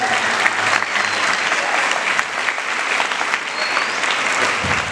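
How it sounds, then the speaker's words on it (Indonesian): Sustained audience applause for SMP An Nur at an Islamic boarding school event, a dense, steady wash of many hands clapping at an even loudness throughout with no speech over it. "Tepuk tangan untuk SMP Anur."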